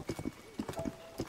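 Horse hooves in The Legend of Zelda: Tears of the Kingdom, a quick rhythmic clip-clop of several hoofbeats in groups of three, fairly close and moderately quiet, with a faint tonal game sound in the background.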